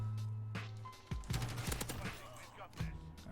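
Bursts of automatic gunfire ring out in an online match of the video game Modern Warfare, with several sharp volleys and single shots spaced irregularly. The shots sound moderately loud against steady game background noise.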